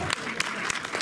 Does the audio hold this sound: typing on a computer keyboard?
no